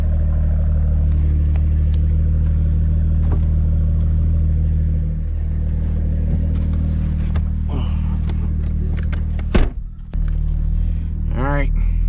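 2021 Toyota Supra with a new exhaust, its low steady engine rumble heard from inside the car, with some brief clatter and a short rising whine near the end and no talking.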